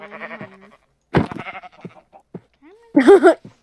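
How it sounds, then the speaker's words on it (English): Sheep in a blocky survival video game bleat in several short wavering calls, loud and close, with a few clicks and a brief whistle-like tone between them. "Sheep, sheep, sheep"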